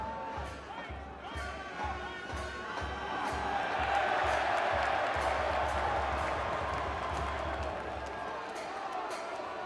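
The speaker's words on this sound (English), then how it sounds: "you heard the big NC State cheer just then" A big stadium crowd roars and cheers for NC State during the NCAA men's soccer College Cup championship against Washington, a broad sustained swell that peaks midway, with steady thumping and commentary voices underneath.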